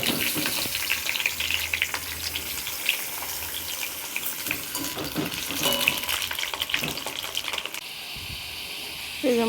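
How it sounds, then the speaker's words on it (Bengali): Potatoes fry in hot oil for mutton curry, a steady crackling sizzle with bursts of spattering and occasional stirring clinks, close and continuous throughout. "মাংস আলুগুলো একটু লাল লাল করে ভেজে নিই।"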